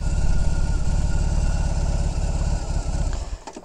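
Motorcycle engine running steadily nearby with a deep, even low throb that keeps going throughout, easing off near the end.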